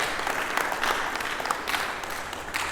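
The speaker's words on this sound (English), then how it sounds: "Everybody clap for a farmer right now." Crowd clapping for farmers at a motivational talk, steady mid-level applause with a few louder individual claps throughout.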